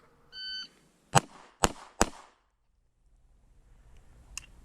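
A shot timer's electronic beep sounds, then three sharp handgun shots in quick succession during a concealed-carry qualifier drill, crisp and echoing, followed by near quiet.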